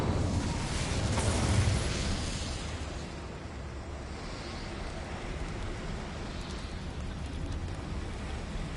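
A fire spell bursts into a roaring whoosh in Hogwarts Legacy, loud at first and then settling into a sustained crackling, rumbling burn.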